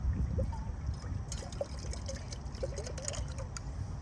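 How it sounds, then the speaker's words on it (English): Water poured into a cooking pot used with a Lixada wood stove to rinse it out, a close, continuous trickle and dribble with small splashes throughout. "I'll just pour some more water in here."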